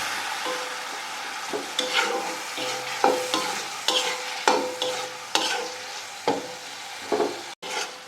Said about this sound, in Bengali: একটু সামান্য জল দিয়ে খানিক্ষণ নাড়াচাড়া করে নিতে হবে